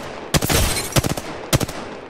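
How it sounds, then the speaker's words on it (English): Gunfire in Apex Legends comes in three sharp bursts of rapid shots about half a second apart, loud and close, each with a brief rattling tail. "Taking fire."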